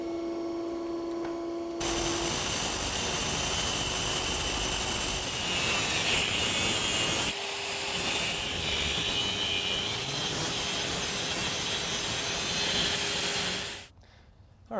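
An electric motor shaft being cut off, a loud continuous grinding whine that starts abruptly after a short hum, holds steady with one brief dip midway, then winds down and stops near the end.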